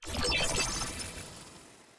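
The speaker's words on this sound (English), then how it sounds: "So first, you could do a crystallizer." A crystallizer audio effect: a bright, glassy shimmering burst swells quickly and then decays over about two seconds, sparkling and metallic with no voices.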